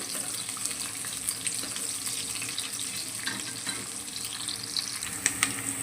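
A chopped large onion fries in a pan with a continuous, even sizzle. It sits close and moderately loud, with a few small crackles and no voices.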